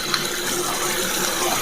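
A plastic razor gets a quick rinse under a running tap in a motel bathroom, producing a constant, close rush of water with faint knocks from the razor.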